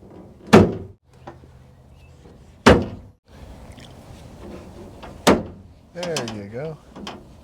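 Rubber window seal clipped into the door of a 1979 GMC truck: three sharp, close snaps spaced a few seconds apart, with a short voice-like wavering sound at the end.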